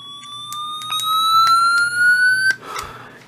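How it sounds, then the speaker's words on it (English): A shrill electronic siren tone from a Midland HH50 handheld radio rises steadily in pitch for a couple of seconds, then cuts off abruptly, followed by a brief clatter. "The volume of the siren on this radio is adjustable"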